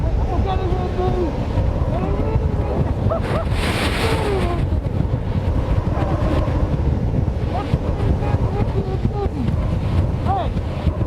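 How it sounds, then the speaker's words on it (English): Strong gale of about 65 to 70 miles per hour roaring and buffeting the microphone in continuous loud gusts, with occasional voices mixed in. "This is about 65, maybe 70 miles an hour worth of wind."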